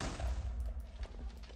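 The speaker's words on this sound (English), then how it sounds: "Why was there an explosion?" An explosion in the Nether of Minecraft, a heavy low rumbling blast with crackling debris that rolls on for over a second at fairly close range.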